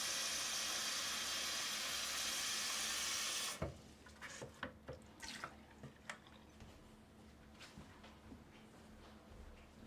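Water running loudly from a sink tap at a pottery studio for about three and a half seconds, then shutting off, followed by scattered drips, clinks and handling knocks.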